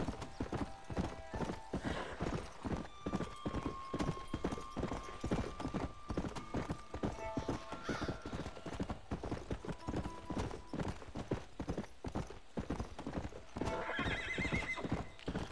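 Horse hooves clip-clop steadily and rhythmically in Red Dead Redemption 2, close and continuous throughout, with a horse's whinny and sustained musical tones layered over the hoofbeats.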